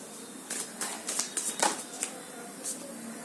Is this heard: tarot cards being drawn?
yes